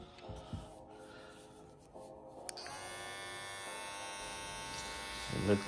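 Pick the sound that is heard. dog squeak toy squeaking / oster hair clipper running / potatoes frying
oster hair clipper running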